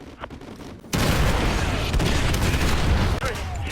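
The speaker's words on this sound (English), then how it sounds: "Fire mission received. Artillery inbound." An artillery strike in Call of Duty: Modern Warfare 2 arrives as a sudden loud roar of explosions and rumbling gunfire that fills the sound for a few seconds after a quieter opening.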